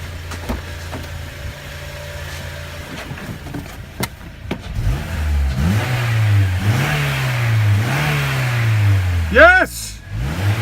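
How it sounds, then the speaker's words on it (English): An Acura car engine with a misfire problem idles roughly, then is revved repeatedly in rising and falling surges, close and loud, with a person speaking briefly. "let me rev that engine."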